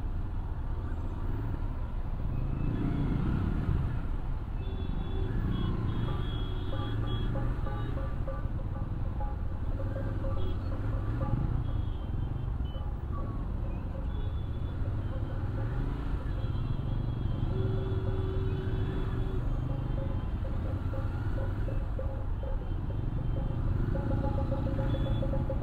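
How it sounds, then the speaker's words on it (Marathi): A GT 650 motorcycle rolls through congested traffic on the way to college, its steady engine drone blending with a continuous low road rumble and nearby vehicle noise, with no voices. "नंतर पुढे सगळीकडे ट्रॅफिकच होती।"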